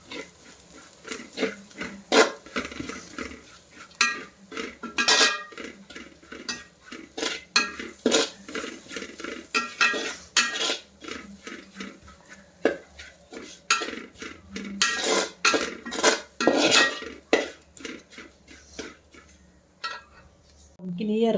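Spices being mixed into beef curry in a pot, with repeated scraping and clanking of a spoon against the metal pot in uneven bursts, close up, with occasional faint voice sounds.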